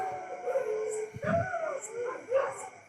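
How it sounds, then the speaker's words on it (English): Dogs howl and yip somewhat faintly in the distance, with wavering, drawn-out cries rising and falling and a few short louder bursts. "Even my dog is also barking too."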